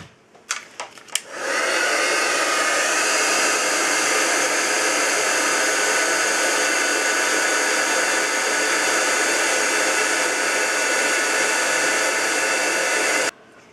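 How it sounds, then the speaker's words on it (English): A handheld heat tool melting embossing powder switches on after a few taps, then blows with a loud, steady, close whooshing roar for over ten seconds before shutting off. "And then with my heat tool, I'm going to melt that."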